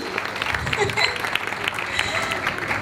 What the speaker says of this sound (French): On applaudit ceci.